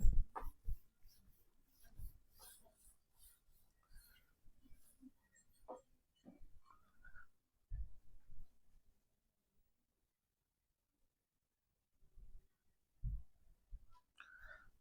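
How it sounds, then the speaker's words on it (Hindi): Faint scratching strokes of writing on a board during a chemistry lesson, quiet and intermittent with pauses and a long silent stretch near the middle. "इस ऑर्डर को मैं ऊपर लिख देता हूं"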